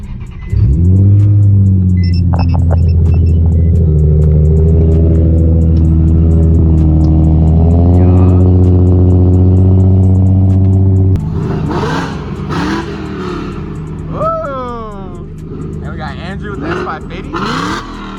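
A Nissan 350Z cold-starting, catching with a burst and then settling into a loud, steady high idle for about ten seconds, followed by blips and revs as people chat nearby.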